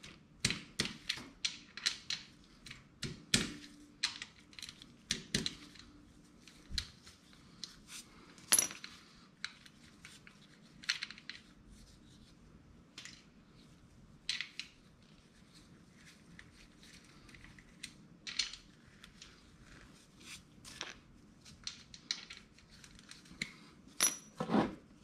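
Sharp metallic clicks and ticks of a 10 mm socket wrench working loose the oil filter cover on a 2020 Suzuki TU250X motorcycle, irregular bursts of ratcheting and tool taps, close and fairly quiet, with no talking.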